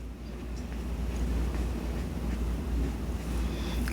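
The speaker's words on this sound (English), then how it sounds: "It's really windy outside." Steady wind blowing outdoors ahead of an incoming storm, a continuous low rumbling roar with gusty buffeting against the microphone, fairly loud and without pauses throughout.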